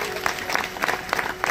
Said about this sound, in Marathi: त्यांच्यासाठी एकदा टाळ्या वाजवा.